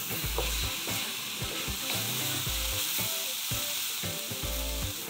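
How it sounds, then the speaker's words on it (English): Mushrooms searing in a hot pan for fried rice, a steady loud sizzle with rhythmic scraping and stirring strokes of a utensil against the pan, no voices. "Mushrooms need a nice sort of high heat to get that lovely color and so that they don't go all soggy and slimy."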